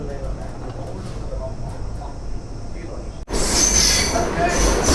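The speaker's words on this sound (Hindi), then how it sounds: "काफ़ी ज़्यादा ही स्लो हो गई है, ट्रेन रुकी गई।" A local commuter train bound for Gurugram via Delhi slows and rolls to a stop, a low rumbling rattle that gives way to a sudden loud burst of screeching, hissing wheel and brake noise near the end.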